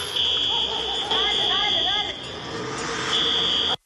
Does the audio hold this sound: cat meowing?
no